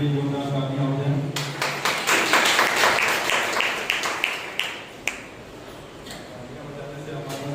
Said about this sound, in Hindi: आइए हम उस परमेश्वर के लिए, उसकी महिमा के लिए जोरदार तालियां हो जाएं